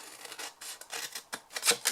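Scissors cutting through card for a small jam jar box, a run of crisp, uneven snips and rasping slices, close and clear with no talk.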